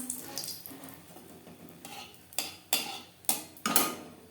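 A dried red chili fried in hot mustard oil gets stirred. A quiet background sizzle is broken by several sharp scrapes and clinks of a utensil against the pan, growing more frequent toward the end.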